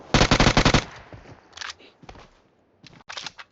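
Rapid automatic gunfire from a PUBG Mobile match opens as a loud burst, then shorter volleys and single shots follow after gaps.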